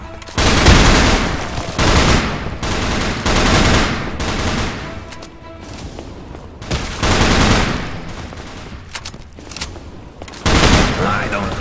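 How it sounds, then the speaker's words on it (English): A heavy machine gun in the video game Haunted Hell's Reach fires in repeated loud bursts separated by short gaps, close and punchy, with game chaos around it and occasional voices. "Heavy machine gun."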